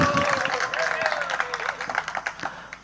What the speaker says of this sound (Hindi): अभी तालियां बजा रहे हो,